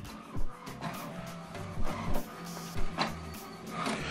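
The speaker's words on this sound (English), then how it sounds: "So what it's doing now, what is printing is alignment." An HP Deskjet 2700 printer prints an alignment page, its carriage motor whirring in short repeated passes with soft thumps and clicks as paper feeds, close and fairly quiet.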